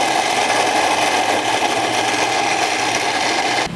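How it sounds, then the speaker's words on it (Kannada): An electric mixer grinder (mixie) blends chutney of salted ingredients and a little water, a steady, loud whirring grind that runs without a break and cuts off just before the end. "ಮಿಕ್ಸಿ ಹಾಕಿ"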